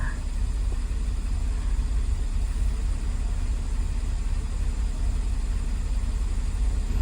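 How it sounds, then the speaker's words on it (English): A car engine idles steadily in a garage, a constant low rumble with a faint hiss running unbroken throughout, close and moderately loud, with no talking. "Sitting in the garage with the car running."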